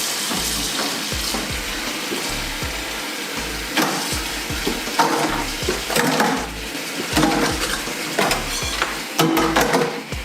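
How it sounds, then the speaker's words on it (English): Dishes being washed in a kitchen sink with soapy water, a steady run of splashing, clinking and scrubbing with water sloshing throughout, close and fairly loud, with no talking. "When washing the dishes"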